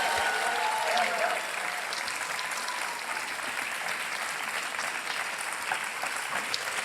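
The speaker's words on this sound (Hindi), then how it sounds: "तालियां बजती रहे इनके लिए।" Studio audience applauding a quiz show contestant on Kaun Banega Crorepati, steady dense clapping that fills the whole stretch at an even level.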